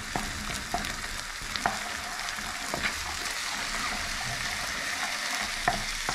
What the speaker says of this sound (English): So we stir like this and we let it caramelize.